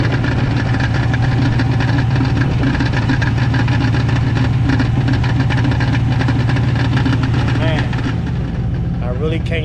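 A Chevrolet Camaro transmission making a rattling noise, heard as a loud, steady mechanical drone and vibration with a low hum that runs unbroken throughout.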